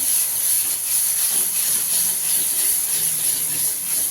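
Goda masala spice mixture and salt sautéing in a pan for a tangy-sweet amsul varan, giving a steady, close hiss of frying that holds evenly throughout, with no talk.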